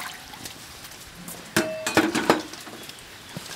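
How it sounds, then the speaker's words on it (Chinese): A ladle of water splashes into a pot of cut beef, with a few close metallic clinks and a short pour over quiet room noise. "加入一瓢的水"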